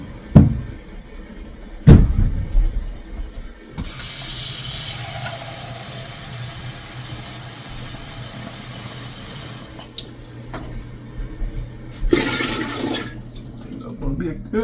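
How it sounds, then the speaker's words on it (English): Tap water gushing into a canner pot for canning tomato sauce, a hissing stream that runs for about six seconds then returns briefly later, between clanks and thuds of pots and jars in a home kitchen. "I think I'm gonna need more water into my canner"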